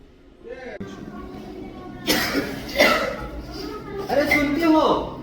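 A person coughs several times in a room, fairly close and loud, in short bursts with talk around them.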